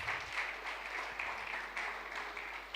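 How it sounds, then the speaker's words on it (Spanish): Congregation applauding during a church service, a steady wash of clapping from a crowd held at moderate, even loudness for the whole stretch. "Así que dale un aplauso a ese Dios maravilloso"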